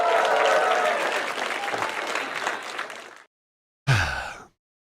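A burst of crowd applause, dense and steady clapping that cuts off abruptly after about three seconds, then a short second burst that ends just as suddenly.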